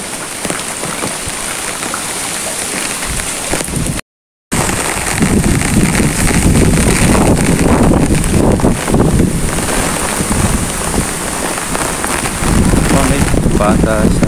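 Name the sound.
strong wind and rain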